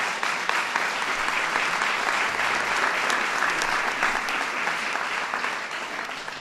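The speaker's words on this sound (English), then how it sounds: "That's worth an applause right there." Steady, dense applause from an audience at a White House event honoring the Baylor Lady Bears basketball team, sustained and loud throughout with no talk over it.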